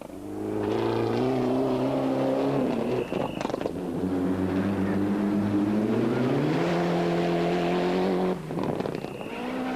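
A Mitsubishi rally car with understeer blasts along a gravel stage at the Cape Rally 2001, engine revving high and changing gear loudly near the listener, with no talk over it.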